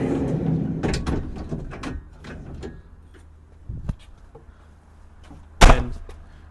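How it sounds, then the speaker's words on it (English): An extra-wide storage compartment slide tray on a 2017 Tiffin Phaeton 40QBH motorhome pulled out by hand, giving a few soft knocks and sliding rumbles, then one sharp bang near the end as it stops. "So this tray will come way out."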